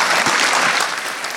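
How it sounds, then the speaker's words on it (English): A live audience at a technical talk on upstream kernel developments bursts into steady, dense applause that fills the whole moment without a break, with no voices over it. "Tycho, please clap him."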